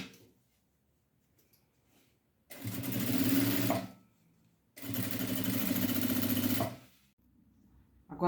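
A sewing machine runs a safety seam on a fabric bag in two loud, close bursts of fast rhythmic whirring, each lasting about a second or two, separated by brief quiet pauses.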